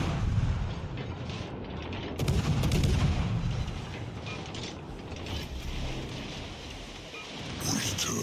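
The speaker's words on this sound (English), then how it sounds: "we got him to shoot at us" Enemy warship guns fire in World of Warships Legends: deep rumbling booms under a continuous mechanical creaking and clattering of game effects, fairly loud throughout.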